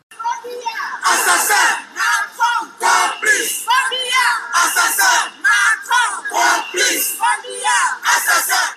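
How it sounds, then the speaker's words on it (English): Protesters marching through the streets of Paris chant rhythmically in loud, clipped bursts of many voices, the call repeating in regular pulses with short gaps between. "In chants as they march across the streets of Paris"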